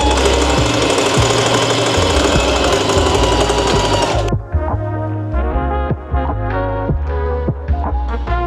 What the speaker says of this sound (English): Then you're gonna sew around the curvature of the pocket.